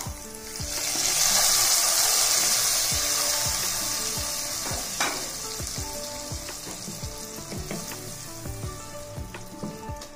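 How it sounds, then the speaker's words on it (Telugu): Tempering with a pinch of asafoetida sizzles loudly in hot oil for tomato dal, a bright frying hiss that swells early then settles, with scattered clicks and scrapes of stirring. "చిటికెడు ఇంగువ, తాలింపు వేగింది. ఇక స్టవ్ కట్టేసుకొని పప్పులో కలుపుకుందాం."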